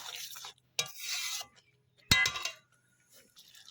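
A spoon stirs papaya curry in a pan after ghee has been added, giving brief scraping and clinking strokes with short pauses of quiet between them.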